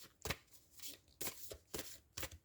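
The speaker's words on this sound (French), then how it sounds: "On va aller piger 3 cartes dans The Sacred Forest." Tarot-style cards from The Sacred Forest deck are shuffled and drawn in four quick, crisp riffling bursts, close and quiet with short pauses between them.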